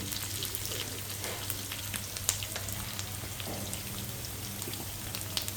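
Dried red chillies frying in oil for a tempering, a steady close crackle and sizzle with small pops scattered throughout and no talking.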